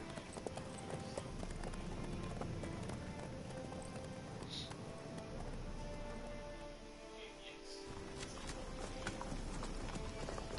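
In The Witcher 3, a horse's hooves clip-clop at a gallop, continuous and fairly close, set against dense game ambience and wind with faint speech in the background.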